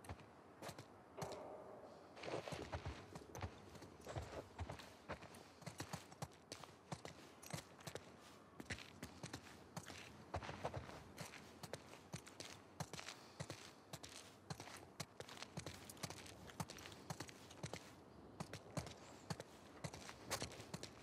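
Continuous clip-clopping of horse hooves in the video game The Last of Us Part II, a dense, steady stream of hoof clicks with faint creaks, fairly quiet and without talk.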